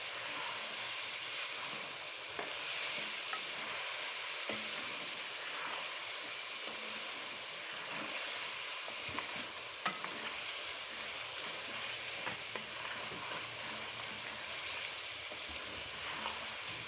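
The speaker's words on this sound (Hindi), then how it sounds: "ये देखिए कि चिकन जो है वो फ्राई हो रहा है" Turmeric-coated chicken fries in a pan with a continuous bright, hissing sizzle that stays even and fairly close, and a few faint clicks come through the crackle.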